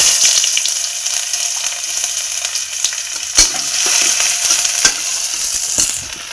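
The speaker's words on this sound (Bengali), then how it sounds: "পেঁয়াজগুলো ভেজে নেবো।" Onions frying in hot oil in a pan, a loud steady crackling sizzle close by, broken by a few sharp clinks of a utensil against the pan.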